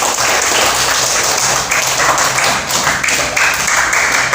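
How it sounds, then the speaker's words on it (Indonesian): Schoolchildren in a classroom applaud a student group, a loud, dense burst of many hands clapping close by, steady and continuous for several seconds with no talk over it. "Tepuk tangan untuk kelompok 2."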